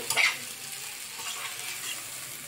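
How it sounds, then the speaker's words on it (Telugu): Eggs are stirred into ponnaganti leaf curry frying in a pan, giving a steady close sizzle with a brief scraping burst at the start, no voices. "ఎగ్స్ వేసి చక్కగా దీన్ని కలుపుకుందామండి"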